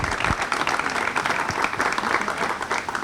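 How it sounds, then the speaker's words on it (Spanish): Audience applause for presenters María Carmen Maestre and José Antonio at a talk on the Infante Duque's garden of the five senses, a steady dense patter of clapping held at even loudness for about three seconds. "Y un aplauso para ellos."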